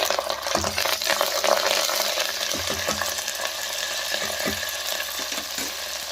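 Onion fries in hot oil with curry leaves in a home kitchen, giving a constant close, loud sizzle with scattered stirring clinks and scrapes of a spoon against the pan.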